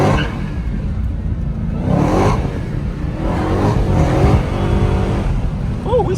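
Dodge Hellcat engine revving while driving, a loud steady engine roar rising and falling inside the car, with voices talking over it.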